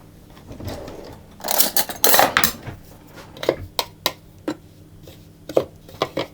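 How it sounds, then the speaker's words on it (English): A spatula scrapes around the side of a food processor bowl holding a quiche mixture, a cluster of louder scuffs early on followed by a string of short, sharp clicks and taps against the bowl, close up with no talking. "give it a little bit of a scrape around the side. And continue processing it."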